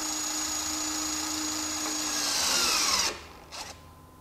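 A Hytorc Lion Gun precision torque tool whirs steadily as it runs a bolt down, its pitch shifting as it reaches torque, then cuts off abruptly with a brief whir as it backs off, close and alone.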